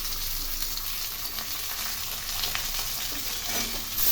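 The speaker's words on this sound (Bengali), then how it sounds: "এখানে একটি মাছ ভাজছি" Pomfret fish frying in a pan of oil tempered with nigella seeds and green chillies gives a steady, close hiss and crackle that runs unbroken throughout, with a few faint clinks near the end.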